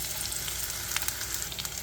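Steady, busy sizzling of onions sautéing in a pan, a continuous crackling hiss with small pops, close and fairly loud, with no voices.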